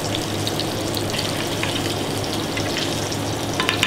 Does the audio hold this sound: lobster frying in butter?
yes